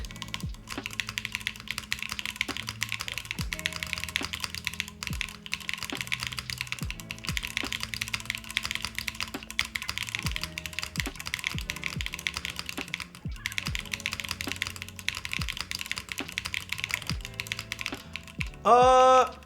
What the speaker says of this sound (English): You're probably hearing the upstroke with the Wuche switches.